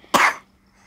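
A young boy gives a single sharp cough, close and loud, fading quickly into quiet.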